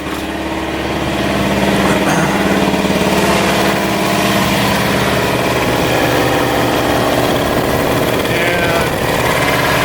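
A Campbell Hausfeld 80-gallon air compressor fitted with a Harbor Freight replacement pump runs loud and steady, its belt-driven pump chugging in a rapid, continuous mechanical rhythm as pressure builds.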